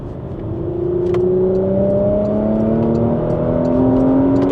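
Porsche Macan GTS engine pulling hard under acceleration, a steady loud drone with rising tones as it gathers speed, heard from inside the car with no talking.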